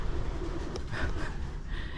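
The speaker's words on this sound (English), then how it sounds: "if the pigeons will let me talk." Pigeons coo inside an abandoned factory badly damaged by a huge fire, their soft calls blending into a steady hiss of room noise at moderate distance.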